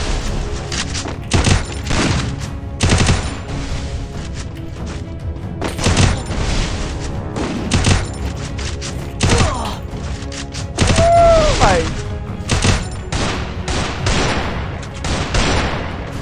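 Desert Eagle pistol fire in the Free Fire video game, loud repeated shots and thuds scattered through a busy gameplay mix, with game effects between bursts.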